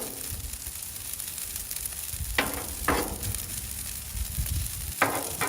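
Butter frying on a Blackstone griddle that has been turned down, cooking for pork fried rice outdoors in cold winter weather. A steady, soft sizzle runs throughout, with a few brief louder crackles rising above it.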